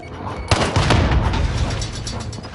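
A grenade goes off in Call of Duty Warzone, a sudden loud, close blast followed by a rumbling, crackling tail and some gunfire-like bursts that gradually fade.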